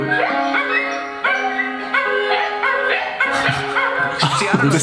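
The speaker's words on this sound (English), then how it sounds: "His dogs are singing." Dogs howling along to a piano in long, wavering tones with some yips and whimpers, loud and close, rising and falling together.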